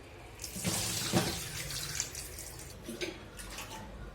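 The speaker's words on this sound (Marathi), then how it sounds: "मी इथं धुवून घेते छान मस्तपैकी दोन चार पाण्याने" Soaked rice and lentils for idli batter are washed and swished in water, a splashing, running-water sound with a few sharper sloshes near the start, close and unaccompanied by talk.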